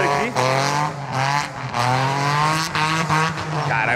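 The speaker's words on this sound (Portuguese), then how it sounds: "Caralho, o barulho desse carro é alto" Loud car engine on a street near a roundabout, roaring and revving close by with a rising and falling whine, a brief squeal, and a few people talking under it.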